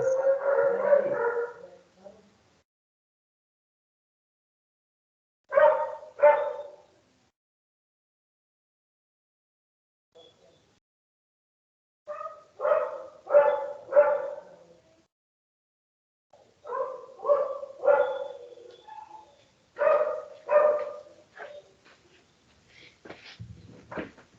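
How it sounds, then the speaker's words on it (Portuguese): A neighbour's dog barks in several short bursts spread across the stretch, with quiet gaps between volleys, sounding moderately close and clear with no talk over it. "o cachorro do vizinho começa a latir"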